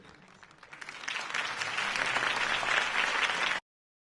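A crowd in Batman: The Telltale Series breaks into applause after a campaign speech, starting soft and swelling to full, dense clapping before cutting off abruptly.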